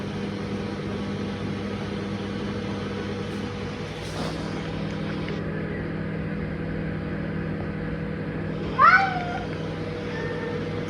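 Cats in a home kitchen give a short grumbling meow near the end, brief and close, over a steady background hum like an appliance running.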